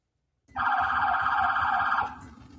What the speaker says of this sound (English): a Little Rock police officer turned on his emergency lights and siren to let the neighborhood know of police presence